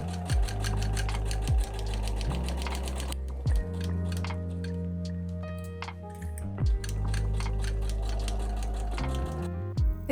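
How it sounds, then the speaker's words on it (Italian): A sewing machine runs a straight seam along three sides of a pinned shirt collar, with bursts of rapid mechanical stitching broken by brief pauses, close and steady, and no voices. "cucio questi 3 lati insieme con cucitura dritta a 1"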